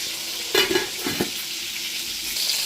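Stuffed onions with chicken frying in a pan on a number 3 electric stove, a steady close sizzle broken by two brief bursts of stirring or scraping, with no talk.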